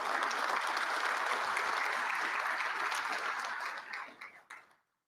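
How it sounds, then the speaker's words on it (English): A banquet audience at an annual awards dinner claps for the speaker's wife as she stands, a full, dense round of applause that holds steady and then thins to a few scattered claps before stopping. "Give her a round of applause."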